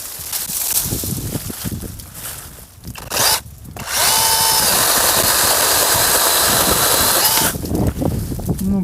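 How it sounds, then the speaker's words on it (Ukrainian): A Procraft PKA44 cordless mini chainsaw cuts through a branch, running in a loud, steady high whine for several seconds after a few short bursts and pauses, close to the listener. "Так, а ну зараз спробуємо пиляти."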